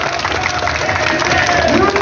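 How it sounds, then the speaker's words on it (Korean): Crowd applauding at an outdoor Wednesday protest rally, a steady dense wash of clapping and crowd noise with voices mixed in throughout. "박수 보내드리세요."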